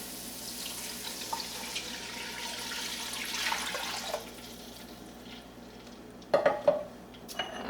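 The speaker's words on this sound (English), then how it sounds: "let's go ahead and add our stocks in" Stock being poured into a cooking pot makes a steady liquid rush for several seconds, followed by a few clanks of metal on the pot, close and moderately quiet with no talking.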